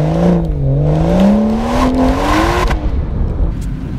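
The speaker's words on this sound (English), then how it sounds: "And the sound, it's the natural six-cylinder sound" A 2018 BMW 440i xDrive's naturally aspirated six-cylinder engine revs and pulls on a snowy mountain road, its tone rising and falling smoothly for a few seconds before easing off, loud and close with no talking.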